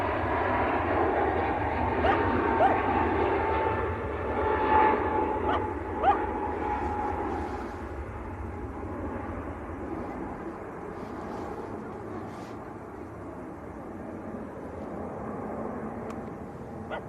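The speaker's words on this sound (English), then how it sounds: "Tight spacing, Ryanair from Warsaw just about to touch down." A Ryanair airliner from Warsaw touching down at Manchester Airport gives a sustained, moderately loud engine rumble that slowly fades and thins, with faint scattered background noise throughout.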